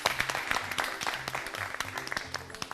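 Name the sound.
applause from contestants clapping for themselves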